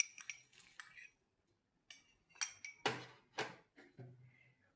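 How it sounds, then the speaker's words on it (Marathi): A handful of fried peanuts tipped into a dish of puffed-rice breakfast, giving a few close, crisp clattering bursts with small clinks, alone and fairly quiet. "आता हे शेंगदाणे 1 मूठ मी तळून घेतलेले आहेत ते पण घालून घेऊया"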